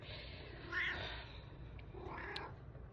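A house cat gives two short meows about a second apart, fairly close and moderately loud against a quiet room.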